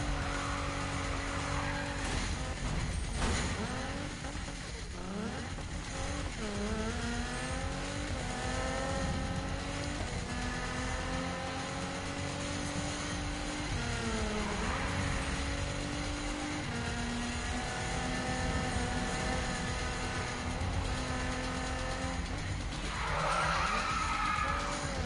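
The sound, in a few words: car driving in video game Need for Speed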